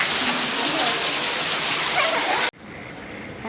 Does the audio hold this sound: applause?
no